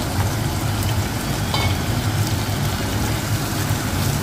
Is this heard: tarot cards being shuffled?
no